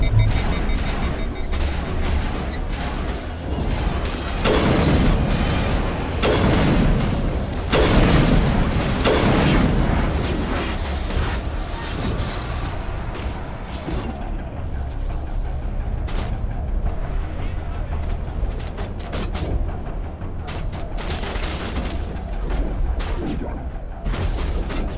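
Repeated heavy explosions from grenades and other weapons in the video game Mass Effect Legendary Edition, booming through dense, continuous gunfire and combat noise, with a player's voice talking now and then.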